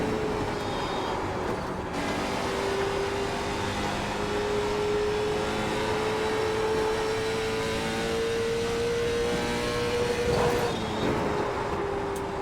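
A late model race car engine in a racing video game at Indianapolis Raceway Park holds a loud, steady high drone with a sustained pitch, briefly dipping and shifting near the start and end of the run.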